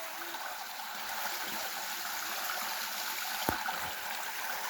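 Steady broadband rush of water flowing at Tatlıca waterfall in Erfelek, Sinop, a continuous close hiss with no breaks and one brief sharp knock partway through.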